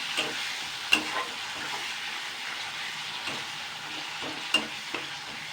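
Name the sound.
onion and tomato spice mix frying in mustard oil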